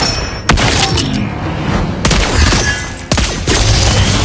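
Sniper rifle shots from the hero Lesley in the mobile game Mobile Legends: Bang Bang, a few sharp loud cracks spaced roughly a second apart over busy game background noise.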